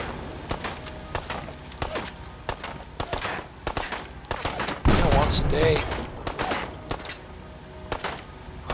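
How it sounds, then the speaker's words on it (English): Video game gunfire at a shooting range, a rapid string of sharp shots running throughout under a speaking voice, with a louder burst midway. "Shooting range that will reward you with firework if you hit a certain target."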